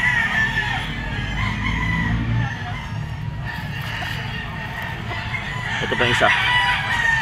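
A two-year-old wine-red straight-comb, white-legged rooster crows and clucks at moderate distance amid steady outdoor background noise, with someone talking briefly over it.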